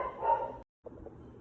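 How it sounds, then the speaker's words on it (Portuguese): A dog barks indoors, a loud cluster of rough barks, a short pause, then softer continued barking, with no talk over it. "Tem um cachorro aqui, caraca, que late pra caramba, ele não para de latir um minuto."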